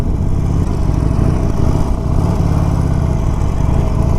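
A 2021 Harley-Davidson 48 or 2021 Triumph Bobber Black motorcycle engine runs steadily close by, a loud, continuous low rumble with no clear revving, alone without talk.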